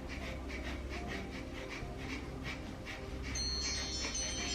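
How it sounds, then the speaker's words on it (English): Rapid rhythmic breath-of-fire yoga breathing, a string of quick forceful panting exhales at a steady pulse, soft and close, with no talking. "So this is called breath of fire."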